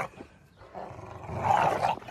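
American bully dogs growl and rumble close by, a low throaty sound that swells in the second half and stays loud to the end, with no talking.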